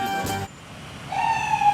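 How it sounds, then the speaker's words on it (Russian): An ambulance siren, on a vehicle donated for emergency care in Uman, Ukraine, rises as a steady wailing tone after a short noisy burst and a brief lull, growing louder toward the end, with no voices. "Это автомобиль «Скорая помощь», что может помогать в первые 7 минут"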